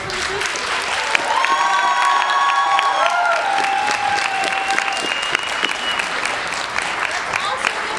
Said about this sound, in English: Let's give a huge round of applause for all of our actors and directors for the season.